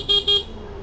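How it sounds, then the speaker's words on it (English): Two short, loud car horn honks in quick succession, close by, followed by a low engine hum. "Thank you for stepping in front of me when I honk."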